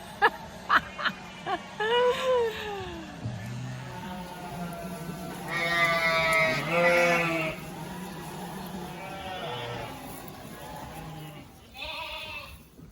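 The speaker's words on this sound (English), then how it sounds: "I'm just watching this lamb here, painted number 119 in the orange paint." Sheep and lambs bleat on a farm. Several wavering calls, near and moderately loud, overlap and come in irregular bursts.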